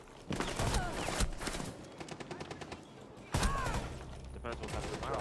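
Rapid automatic gunfire from a Rainbow Six Siege match rattles in dense bursts, pausing briefly before a second loud volley, with a voice talking over it.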